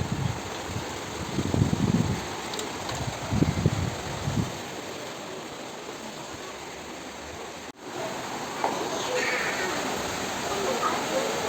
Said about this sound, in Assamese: পানী পৰিছে।